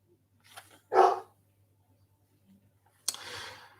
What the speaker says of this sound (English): other dogs in the locality are barking, and that's the only reason that he's barking